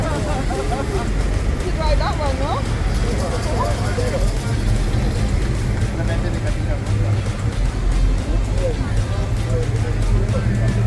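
Old roadsters and other vehicles rolling through the old city streets of Cartagena, a constant low traffic rumble that carries through, with people talking over it.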